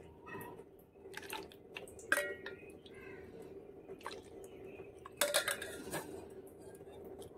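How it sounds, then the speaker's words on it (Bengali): Thick reduced milk poured into a bowl for a sago dessert, soft wet drips and squishy splashes with light clinks of utensils against the dish, close and quiet. "এই বাটিটার মধ্যে প্রথমে তৈরি করে রাখা সেই ঘন দুধটা দিয়ে দেব।"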